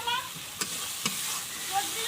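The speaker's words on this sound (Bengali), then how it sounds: "তো এটাকে আমি একটু কষিয়ে নিই ভালোভাবে" Spice masala paste with a little water being sautéed in a pan for a jackfruit curry, a steady close sizzle with a couple of sharp spatula scrapes and no speech.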